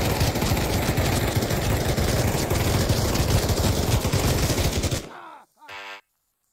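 Sustained automatic gunfire from the VR shooter Pavlov, a loud, dense burst of rapid shots lasting about five seconds before cutting off abruptly, followed by a brief faint tail of quieter sound.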